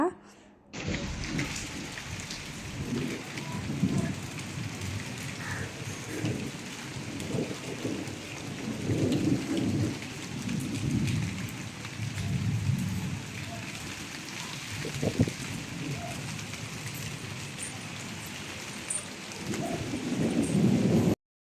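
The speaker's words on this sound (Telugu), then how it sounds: "వర్షం అయితే స్టార్ట్ అయిందనమాట ఎగోండి చినుకులు స్టార్ట్ అయిపోయినాయి ఫుల్ గాలి అనమాట" A May rain shower falls with strong gusting wind, a continuous close wash of noise lasting throughout, with occasional faint bird calls.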